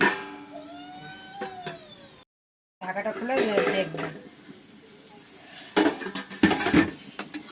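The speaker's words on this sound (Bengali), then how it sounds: "এবার একটু ঢাকা দিয়ে দেবো তাড়াতাড়ি হওয়ার জন্য" A metal lid goes onto a cooking pot of potatoes frying for spicy semolina, giving a few close, loud clanks and rattles after earlier scraping and light sizzling.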